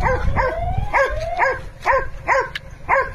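A farm dog kept to protect crops from monkeys barks repeatedly, six or seven evenly spaced, close, loud barks in a steady rhythm over quiet outdoor background.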